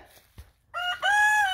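A rooster crows nearby among chickens, giving one clear rising and falling call after a few soft scuffs and clucks on a quiet farm.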